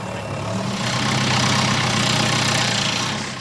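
A lawnmower engine running on biogas made from cow manure, a steady mid-pitched mechanical drone that swells slightly louder midway, close by with no talk.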